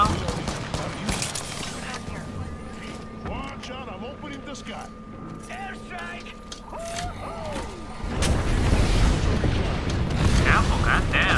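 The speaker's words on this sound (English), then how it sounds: "Airstrike!" Airstrike explosions in Apex Legends: scattered gunfire and mechanical clatter first, then a loud, sustained roar of blasts that swells near the end.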